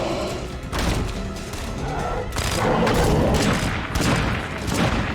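Dense, rapid video game gunfire rattles on without pause, loud and close, with heavy thumps layered through the continuous barrage.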